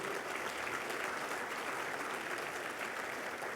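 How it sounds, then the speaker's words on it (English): Steady applause from a dinner audience honoring the evening's speakers at a formal military-affiliated banquet, an even wash of clapping held at a moderate, somewhat distant level with no talk over it. "Let's have a round of applause for all of our speakers today."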